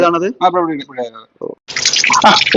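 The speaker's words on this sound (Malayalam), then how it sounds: "ഇലക്ട്രിക് സൈഫൺ ആണത് ഇത് ഇരുപത്തിരണ്ട് വാട്ടാണ്" An electric siphon rated at 22 watts draws water out of a guppy breeding tank, a hissing, gurgling rush that follows a brief bubbling gap after nearby speech and continues loudly to the end.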